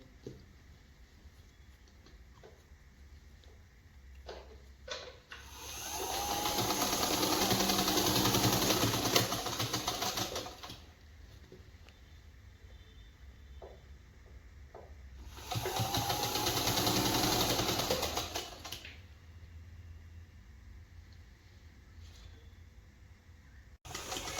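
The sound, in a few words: sewing machine sewing a ruffle sleeve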